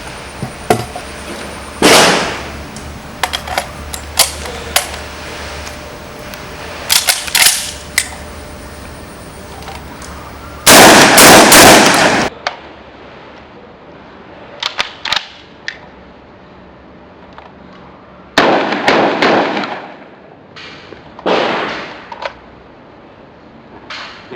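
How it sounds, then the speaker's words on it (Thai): Sharp, loud gunshots from a Derya MK10 Turkish shotgun being test-fired with buckshot, single blasts spaced irregularly and a few rapid clusters, each ending in a short echoing tail, with quiet gaps between. "เซตอยู่ เดย่า MK10 ปืนตุรกี เรามาทดสอบที่แม็กซิม แค่ 3นาทีกันนะครับ"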